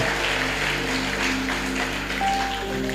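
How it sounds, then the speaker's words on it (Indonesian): A congregation applauds during a Good Friday church service: a steady, even wash of clapping with a low hum underneath. "Tepuk tangan yang meriah dong"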